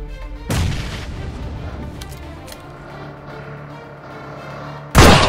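Two loud, sharp gunshots crack out in PUBG, one early and one near the end, with a lingering booming tail and rumble between them and no talking.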